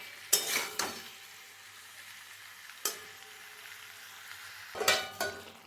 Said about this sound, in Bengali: এবার এই সব কিছুকে আমি খুব ভালো মতো মিশিয়ে নেব।